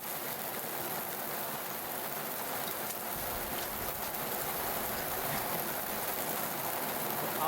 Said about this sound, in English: For hours on end, I walked through this pouring rain.